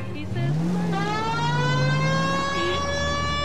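Car engine in L.A. Noire, a steady motor drone with a rising, sustained tonal whine through the whole stretch, a siren-like tone layered over it, close and continuous.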